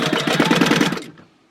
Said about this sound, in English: I am sewing a 1/4 inch seam allowance